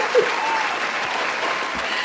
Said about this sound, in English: Everyone give a big round of applause for Heyz.